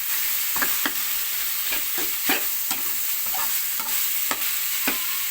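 Beans stir-fried with red curry paste and pork in a hot pan, a steady sizzle broken by repeated scraping strokes of a spatula at an irregular rhythm, close and fairly loud with no talking.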